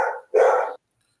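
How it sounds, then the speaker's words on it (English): A big dog gives two deep, loud barks close by, the second longer and fuller, followed by silence. "I got a big old dog in there."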